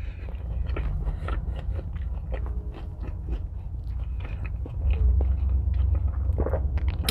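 Biting into and chewing a Taco Bell Chipotle Cheddar Chalupa, with steady close-up crunching and moist mastication sounds running throughout and no talking.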